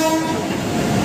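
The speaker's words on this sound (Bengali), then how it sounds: "আমাদের ট্রেন ঢুকছে" A train pulling into a station platform on an early-morning trip toward Tarapith, a loud, steady tonal rumble with sustained horn-like tones, close by and without speech.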